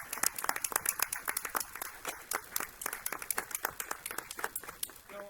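Scattered, moderate clapping from a small audience at a school board meeting, individual claps audible in a steady patter for several seconds.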